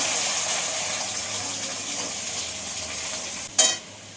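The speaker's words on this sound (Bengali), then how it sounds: "তো পেঁয়াজটা একটু ভাজা ভাজা হোক" Onions sizzle loudly in hot oil with garlic, dried red chilli and bay leaf, a steady close hiss that runs throughout, broken near the end by a short clatter of stirring.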